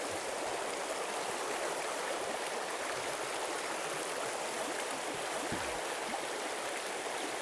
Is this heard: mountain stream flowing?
yes